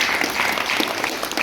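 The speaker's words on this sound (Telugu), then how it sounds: "అందరికి సార్ కూడా ఒకసారి చప్పట్లతో ధన్యవాదాలు." A short burst of audience applause at a karate and martial arts event, given as thanks to a guest. The clapping is close, lively and continuous, with no speech over it.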